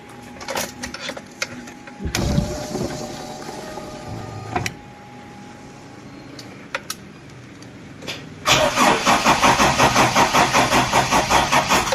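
A car engine with a weak battery cranks sluggishly and fails to start, with clicks and uneven starter whirring early on, then a loud steady rhythmic cranking pulse through the last few seconds, close by.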